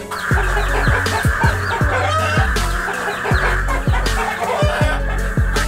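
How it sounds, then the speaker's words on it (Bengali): A mother hen clucks loudly and rapidly while attacking a crow, her sharp, insistent calls repeating in a dense, agitated rhythm from close range with no talking. "মা মুরগি কাককে মারতে মারতে আধমরা করে ফেলে।"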